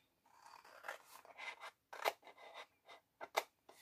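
Scissors snip folded paper in a papercraft pouch project, a quiet run of short crisp cuts and rustles in uneven bursts, close by and alone without talk.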